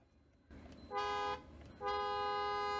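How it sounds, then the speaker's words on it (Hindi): A 2023 Rolls-Royce Cullinan V12 Black Badge petrol SUV sounds its horn in two short, loud, chord-like blasts heard from inside the cabin, separated by a brief gap over faint idle noise. "काफ़ी पावरफुल हॉर्न है।"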